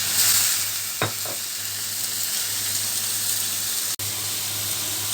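Cooking oil hits a hot pan in a home kitchen and sets off a loud, steady, close-up sizzle that holds throughout, broken by a single soft knock early on. No one speaks.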